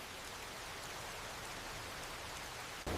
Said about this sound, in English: We are stuck inside. The rain is pretty, though.